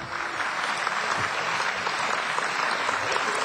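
An audience at a debate at Embry-Riddle breaks into steady applause, a fairly distant, even wash of clapping that holds at a constant level with no talk over it.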